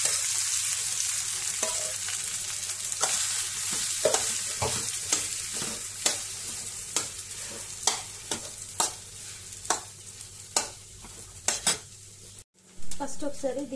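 Rice stir-fried in a pan makes a continuous sizzle, with about a dozen sharp spatula clanks against the metal at an uneven rhythm, growing more frequent toward the end.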